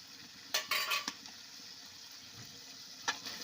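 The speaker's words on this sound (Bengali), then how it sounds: "এবার ডিম আর মটরশুঁটি দিয়ে আমি আরও কিছুক্ষণ কষিয়ে নিচ্ছি।" Eggs and peas stir-fried in masala in a pan: a soft sizzle under a few sharp spatula scrapes and clinks against the pan, with no voices.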